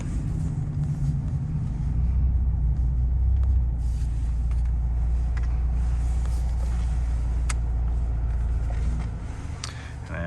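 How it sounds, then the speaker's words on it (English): Engine of a 2000 Toyota Camry LE driving on city streets toward a freeway, a steady low rumble with road noise inside the cabin, swelling briefly then easing off near the end. "so you can just hear the car engine"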